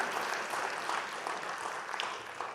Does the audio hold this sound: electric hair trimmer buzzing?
no